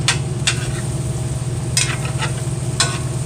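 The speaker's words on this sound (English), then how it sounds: "I'm also stir frying vegetables over there" Vegetables, including carrots and green peppers, sizzle steadily in a hot cast iron pan, with a few sharp scrapes and clinks from stirring at irregular intervals.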